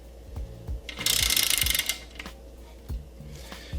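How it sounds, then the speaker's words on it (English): A wrench torques clutch bolts in a crisscross pattern on a Mazda FC RX-7 Turbo flywheel: a few close metallic clicks and clanks around one burst of ratcheting, then scattered knocks in a quiet garage. "we're going to move across in a crisscross pattern, just like you would if you were putting a wheel back on, so that it gets torqued down evenly"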